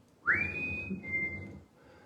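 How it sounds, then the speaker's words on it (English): A single whistled note rises quickly, holds, then steps down slightly before stopping, clear and close against near silence. "Then look side to side and whistle."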